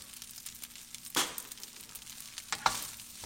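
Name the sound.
green onions sizzling while frying in pan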